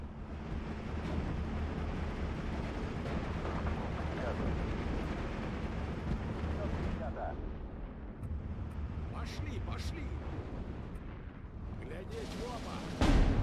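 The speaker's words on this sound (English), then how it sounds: "Not really having much luck with these artillery shells." Artillery shells exploding in the WW2 strategy game Steel Division 2, Soviet campaign at Tiraspol: a dense, continuous rumbling barrage of booms that eases slightly midway, then swells again.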